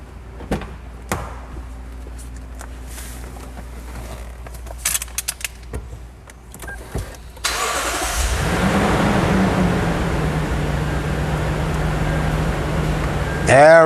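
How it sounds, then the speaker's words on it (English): Lexus GX after an air conditioning repair: keys jangle and clicks, then the engine starts and settles into a steady idle with the AC compressor engaging under a constant hum. "I heard the compressor kick on."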